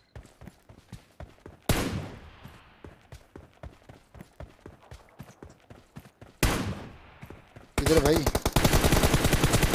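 Rapid bursts of gunfire from a Free Fire-style mobile shooter match, dense volleys of repeated shots with footstep-like clatter between them, loud and close, with players talking briefly over it.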